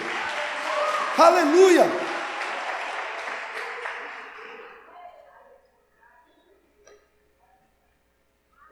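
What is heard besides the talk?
church congregation applauding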